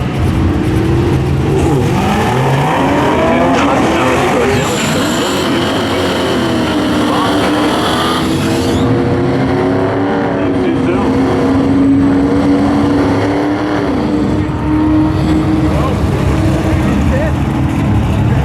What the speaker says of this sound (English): Corvette versus Challenger, Bob Gay at a Fairlawn.